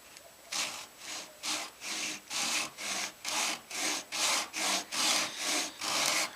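A hand saw cutting fret slots into a multi-laminate wooden guitar fretboard against a guide, with a steady rhythm of about a dozen even rasping strokes, close and clear, with no talk.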